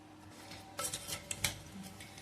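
A spoon scrapes and clinks in a bowl while mixing homemade raw mango pickle pieces with masala and jaggery, a few close metallic knocks and rubs with no talking.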